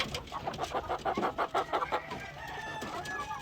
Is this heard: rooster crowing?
yes